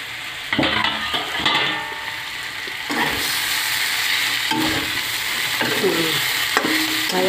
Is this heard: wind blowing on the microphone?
no